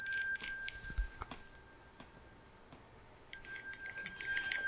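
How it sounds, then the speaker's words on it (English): A filler bell rings during album talk, bright metallic rings opening the stretch and returning near the end, separated by a quieter gap with faint taps and no talk. "You have to ring the filler bell."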